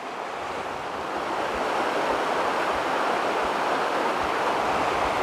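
Heavy rushing water from a swollen waterfall in Scotland, running high after rain: a dense, continuous roar with no breaks that swells slightly louder partway through and holds steady to the end.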